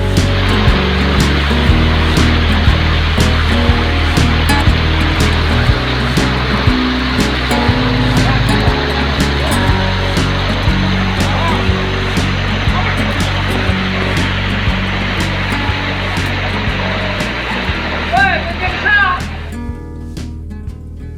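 A steady, loud roar of rushing water pours on without pause, like a waterfall heard up close.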